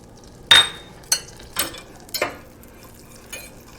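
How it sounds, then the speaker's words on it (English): A butter and flour roux, seasoned with nutmeg, pepper and salt, is stirred in a pan. Five or six separate scraping clinks of the utensil against the pan are spaced a second or so apart, close and fairly quiet. "You will recognize that what I'm doing is I'm making a roux, and I'm going to cook the roux a bit"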